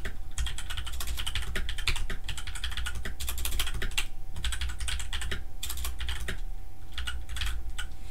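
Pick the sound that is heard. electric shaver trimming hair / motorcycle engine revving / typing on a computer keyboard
typing on a computer keyboard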